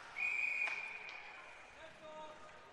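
A referee's whistle blows once, sharp and near, halting play in an amateur ice hockey game, followed by fainter crowd and rink noise.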